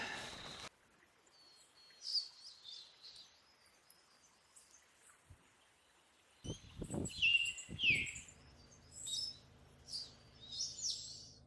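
Birds calling and singing in the Australian bush, with scattered chirps and short trills alone at moderate distance, a quiet gap midway, then louder closer calls over faint insect buzz and low rustling.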